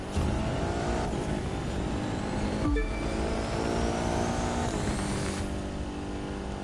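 A McLaren race car power-sliding in The Crew 2 video game: a continuous, loud engine roar with a steady whine that briefly dips before climbing again, with no talking.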